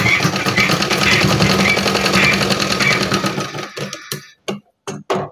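Sewing machine stitching strips of bedsheet fabric, a rapid steady mechanical whirring for several seconds that then breaks into short stop-start bursts, close and loud.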